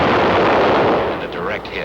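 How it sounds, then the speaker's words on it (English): A .75 recoilless rifle fires in the Korean War, one loud booming blast that rolls on and fades, with a voice faintly talking under the tail. "The .75 recoilless rifle."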